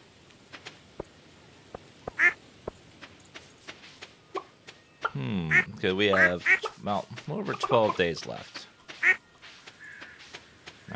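Ducks in the farming game Stardew Valley quack in short, nasal calls, a few scattered early and then a quicker cluster in the middle, under someone talking steadily over the game.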